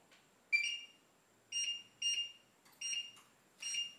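Kitchen cooker timer beeping in a series of five short electronic beep bursts at irregular intervals, clear and moderately loud, with no other sounds.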